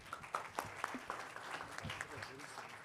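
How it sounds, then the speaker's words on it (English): Applause from a conference audience at a G-20 session, a scattered burst of clapping that swells briefly and then thins out, heard under a faint voice. "Can we give them a round of applause?"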